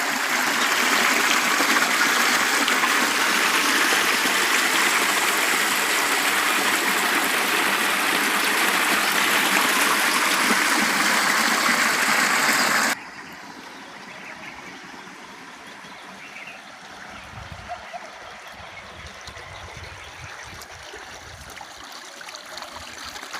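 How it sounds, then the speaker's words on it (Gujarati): Irrigation water from a well gushes loudly in a steady rush into a garlic field, then abruptly drops to a much softer, quieter flow for the rest. "આપણે પાણી હવે ચાલુ કરી દીધું છે"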